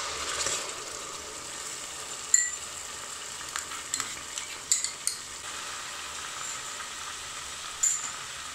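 Ginger-garlic paste fries in a pot with browned onions, a faint steady sizzle with occasional soft spoon scrapes and stirring clicks.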